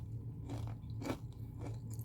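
Crunchy bite into a homemade burger, a few crisp crunching and chewing bursts close to the mic with no talking.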